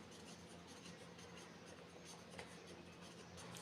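Pen scratching on paper while notes are written during a jaundice physiology lecture, a faint, continuous soft scraping with no talking.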